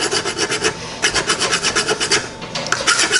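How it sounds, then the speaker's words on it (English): Rhythmic hand filing rasps across the handle of a metal training sword, about a dozen quick back-and-forth strokes in steady succession, close and alone. "I just had to file out like one more part"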